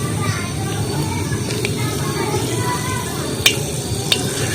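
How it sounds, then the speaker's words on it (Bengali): Whole cardamom, cloves and cinnamon sizzle in hot red mustard oil, a steady close crackle with a low rumble beneath and a couple of sharp clicks near the end. "লাল সরষের তেল দিয়ে দিচ্ছি, এলাচ, লবঙ্গ, দালচিনি সব দিয়ে দিচ্ছি।"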